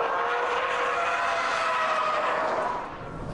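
A Subaru Impreza WRX STI's turbocharged engine revs hard under sustained acceleration, a loud steady roar with a strong mid-range drone that eases slightly near the end.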